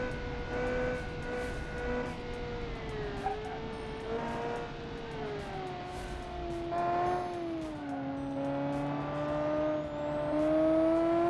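A racing game car engine climbs steadily in pitch as it accelerates, a smooth sustained drone with shifting harmonics, up front and loud with nothing talking over it.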